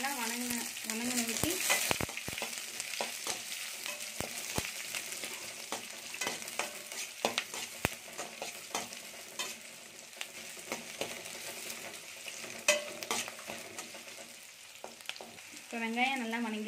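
Mustard seeds, dried red chillies and onion fry in a pan for semiya, with a steady close sizzle broken by the clatter and scrape of stirring throughout.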